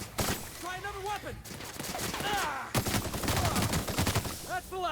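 Gunfire in the video game The Outer Worlds, rapid bursts of shots and crackling over a busy combat mix, with voices talking through it.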